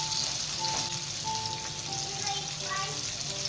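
Needlefish frying in a pan, a constant bright sizzle with music tones over it and no pauses.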